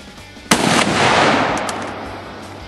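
A single loud rifle shot fired outdoors, a sharp crack followed by a long rolling boom that fades over about two seconds, with no talk.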